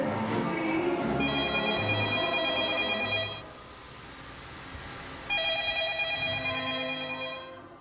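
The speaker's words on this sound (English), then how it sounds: "an apartment with a payphone ringing" A payphone bell in an apartment rings in two long bursts separated by a pause, with muffled background sounds and low murmuring underneath.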